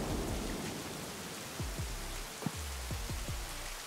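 Steady rain pours throughout a stormy Roblox Bloxburg game scene, with a few short low rumbles and thuds standing out in the second half; no voices.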